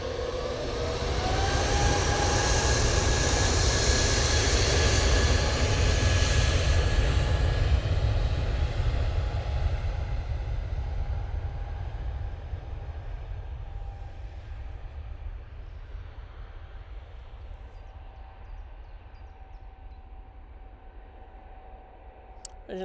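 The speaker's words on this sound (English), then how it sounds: "Virgin Atlantic and short final now." A Virgin Atlantic airliner on short final into Manchester Airport, its engines a loud broad roar with a steady whine that slowly fades and recedes over about twenty seconds, heard alone without talk.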